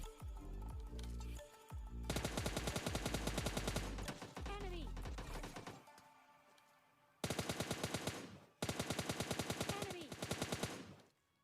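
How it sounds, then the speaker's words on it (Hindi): Bursts of AKM assault rifle fire in a multiplayer battle royale shooter, with dense rapid rattling volleys starting and stopping in several loud separate strings, one long run, then two shorter bursts after a brief lull. "इसकी तरफ से मुझे फाइनली AKM के शॉट पड़ते हैं"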